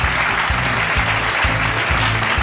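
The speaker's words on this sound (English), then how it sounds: "Let's give them a big round of applause, the team from Bangalore." Audience applauds a college team from Bangalore at the Mahindra AQ Season 9 South Zone quiz, a steady, dense clapping that fills the whole moment over a rhythmic musical beat.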